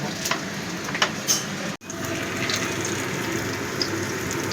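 Raw plantain frying in oil, a dense continuous sizzle with a brief break midway, then resuming steadily close up.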